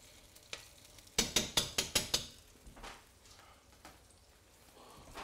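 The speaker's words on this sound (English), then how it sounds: "I'll give that a quick stir, and then I'm going to add some red and green sliced pepper." Ackee and saltfish with garlic and thyme being stirred in a pan: a quick run of sharp scraping strokes follows a single knock, then quieter clinks over a faint sizzle.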